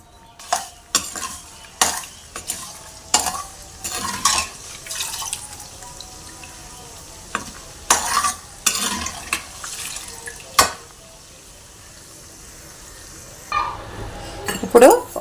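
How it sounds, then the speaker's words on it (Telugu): Broken dried red chillies stirred into hot oil for an amla pickle: a series of sharp, close spoon-and-pan clatters and scrapes at irregular intervals over a soft sizzle, with quieter gaps between bursts. "ఒక ఎండుమిర్చి ఒక 8 తుంచుకొని వేసుకుంటున్నానండి"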